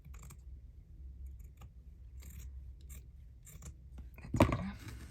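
A few quiet scissor snips trim paper for a craft project, sparse soft cuts spread across a near-silent room, with a louder, fuller snip or rustle close by near the end.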